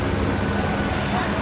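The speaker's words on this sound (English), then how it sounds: "Where the helicopter at? It's right there." A helicopter overhead during a street robbery call, its dense rotor and engine roar filling the whole stretch loudly and evenly, with voices mixed in underneath.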